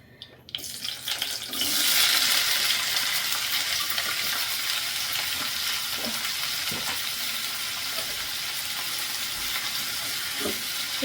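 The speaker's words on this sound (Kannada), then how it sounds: "ಮೊದಲಿಗೆ ನಾನು ಈ ಕ್ಯಾಪ್ಸಿಕಮ್ನ ಹಾಕೋತಾ ಇದ್ದೀನಿ ಇದನ್ನು ಫಸ್ಟು ನಾವು ಫ್ರೈ ಮಾಡ್ಕೊಬೇಕು ಸ್ವಲ್ಪ" Capsicum drops into hot oil and bursts into a loud, broad sizzle that settles into a steady frying hiss as it cooks for curry. Occasional spatula taps and scrapes sound close by, and no one speaks.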